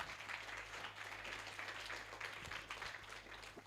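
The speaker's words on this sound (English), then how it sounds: "Can we give Dr. Esther another hand clap?" Applause and hand clapping for Dr. Esther rise from a gathered crowd at an event, a dense, steady wash of many hands with a low constant hum underneath, no one speaking.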